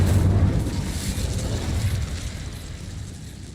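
Incendio fire spell cast in Hogwarts Legacy, a loud low rumbling whoosh of flame that bursts at the start and then rolls on steadily before easing slightly.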